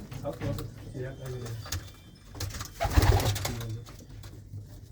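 Fine-breed pigeons coo in soft, repeated low throaty calls close by, mingled with people talking nearby.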